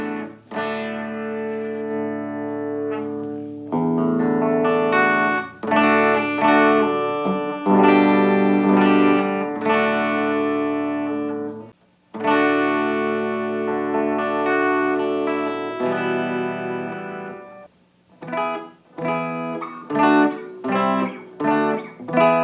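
A distorted electric guitar plays loud chords and riffs through a Peavey Bandit 112 amplifier, sustained with brief pauses and choppy strums near the end.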